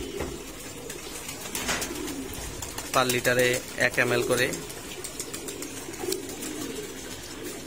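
Male racing pigeons, out after months indoors and about to bathe, coo in soft, low, rolling bursts beneath a man's nearby speech, with a stronger cluster of calls midway.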